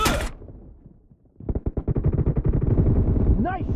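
Gunfire in a video game arena shooter opens with a short sharp burst, falls quiet for about a second, then becomes a long, loud stream of rapid automatic fire to the end.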